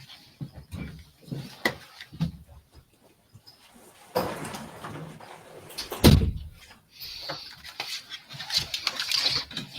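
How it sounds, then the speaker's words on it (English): An office door is shut with a single dull thud in the middle, preceded and followed by small handling clatters and rustles in a quiet room. "Just wanted to shut the door to the office there."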